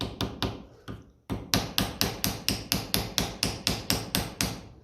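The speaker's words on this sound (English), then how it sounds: "Try and get this one in just below where the screw goes, and a little tap, tap, tap." A hammer taps a fitting into place on a 1955 Ferguson 20 TEF diesel tractor: about seventeen sharp, close metallic strikes, first a few spaced hits, then a brief pause and a steady, even run of blows.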